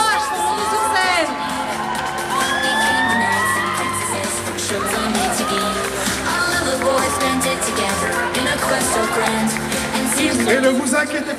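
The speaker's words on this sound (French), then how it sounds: "On les applaudit tous" Crowd at a DconGeek 2025 cosplay contest on stage, loud and continuous for the whole stretch, with cheering, whoops and yells mixed into the applause and some voices above it.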